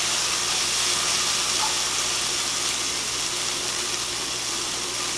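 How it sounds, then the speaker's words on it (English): Peas and radishes stir-fry in a hot pan, a loud, steady, close sizzle and hiss filling the clip without pause. "You're stir frying the peas too?"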